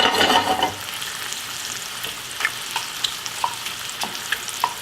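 Mushrooms sauté in a pan on the stove with a loud burst of sizzling at first, settling into a steady soft frying hiss with occasional small pops and crackles.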